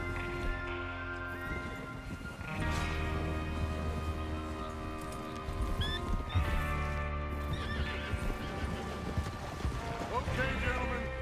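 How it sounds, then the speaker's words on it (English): Horses in a Red Dead Redemption 2 video game neigh and whinny while hooves clip-clop steadily under an ambient game soundtrack, with a couple of louder whinnies rising above the mix. "Get your horses ready."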